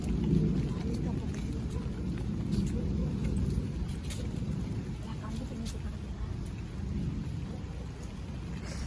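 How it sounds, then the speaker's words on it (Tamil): Heavy rain pours steadily over a rooftop garden, a dense continuous hiss and patter with low rumbling thunder underneath, loud and close throughout. "இப்போதாங்க கொஞ்சம் பலமாக ஆரம்பிச்சிருக்கு மழை."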